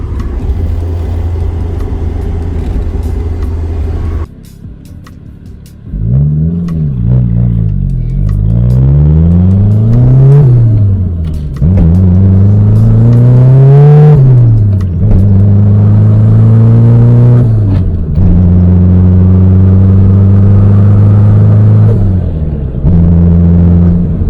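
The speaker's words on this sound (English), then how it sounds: "Yo, listen to the rumble, man. That is the MR2 rumble." Toyota AE86 with a 7A-GE engine running on an MR2 standalone ECU, rumbling close and loud, then revved repeatedly with rising and falling sweeps after a brief dip in level.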